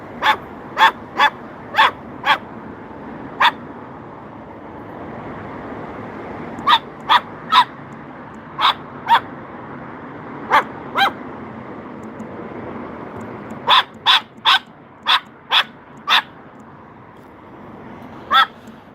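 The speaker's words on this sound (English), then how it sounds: "We got more barking" A dog barks in sharp, loud, close bursts, a quick cluster at the start, scattered single barks through the middle, then another rapid run near the end, over a faint indoor background.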